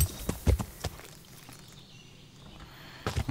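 Horse hooves clop in a quick cluster in the video game Kingdom Come: Deliverance, fall quiet for a couple of seconds, then resume briefly; fairly soft with a low ambient hum.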